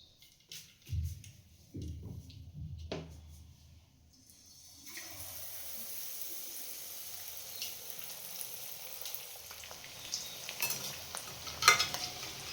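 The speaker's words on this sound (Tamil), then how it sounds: "இப்போ கட் பண்ணி வச்ச எக்கை டிப் பண்ணி ஃப்ரை பண்ணிக்கலாம்" Batter-dipped egg pieces for an egg chilli dish dropped into hot oil, starting with a few clunks and handling noises, then a continuous, moderately loud sizzle and bubbling frying hiss that persists to the end.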